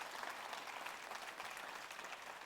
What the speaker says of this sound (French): Si vous l'avez fait, applaudissez